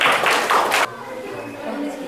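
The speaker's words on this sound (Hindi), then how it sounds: "एक जोरदार ताली होना चाहिए" A class in a Hindi dictation lesson gives a student a loud round of clapping, several quick bursts of hands that stop abruptly after under a second, followed by quieter room sound with some talk.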